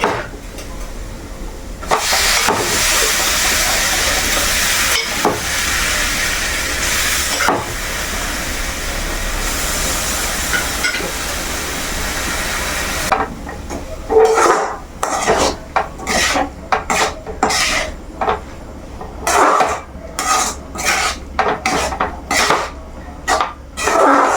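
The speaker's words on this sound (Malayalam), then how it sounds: "നമുക്ക് ഇനി ചെമ്മീനും കായ വെച്ചിങ്ങനെ ഒരു ഇട്ട് കൊടുക്കാം" Shrimp and raw plantain hit a hot pan for a Kerala thoran stir-fry, giving a strong continuous sizzle that breaks into rapid scraping and stirring strokes in the second half.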